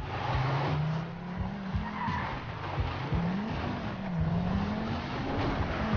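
A car in GTA Online skids hard, a long wavering tire squeal over a rough engine roar that carries on steadily throughout.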